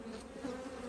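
Honey bees buzz during a hive inspection, a soft, close, continuous drone with a steady pitched hum, alone without talk.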